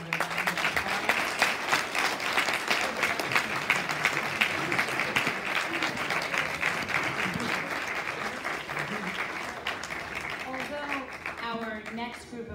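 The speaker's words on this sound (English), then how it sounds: "if we can give all three of our athletic inductees another round of applause" Applause for athletic Hall of Fame inductees at Staten Island Academy, a sustained round of clapping from a seated crowd that holds steady and thins slightly near the end, with some crowd voices mixed in.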